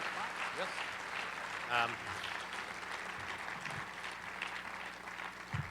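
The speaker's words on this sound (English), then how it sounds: "please give one more rousing cheer for your Professor of the Year, Mark Osler" A law school commencement crowd gives steady applause and cheering for the Professor of the Year, a dense wash of clapping with a brief voice cutting through.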